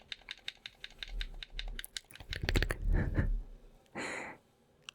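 Rapid plastic game controller button clicks patter in quick irregular bursts, close and crisp, followed by a brief breathy exhale.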